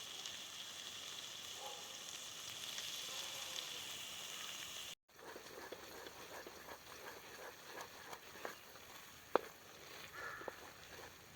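Garlic and spices frying in oil for a winter home remedy for cough and cold, a steady soft sizzle throughout with a brief dropout midway, then crackling pops and occasional sharp spits.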